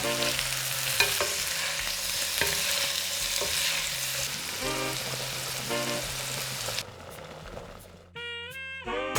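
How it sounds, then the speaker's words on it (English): Artichokes fry in a pan with a steady, broadband sizzle and occasional stirring clatter, set under a loud tonal music bed that drops away near the end, leaving brief tones. "Let's make sure the artichokes are cooked, and then we add salt to this."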